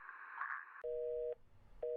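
A phone line in The Letter video game cutting off, a burst of static hiss followed by two identical steady beeps with a pause between them, alone with no talking.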